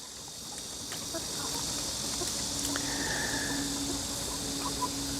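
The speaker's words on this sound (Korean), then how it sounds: "닭 사육 현장에서의 활동을 한번 들여다볼게요" Chickens in a farm coop give faint, scattered clucks over a steady high insect-like hiss and low ambient rumble, distant and quiet throughout.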